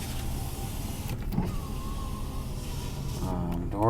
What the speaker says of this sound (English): Windows are nice and smooth.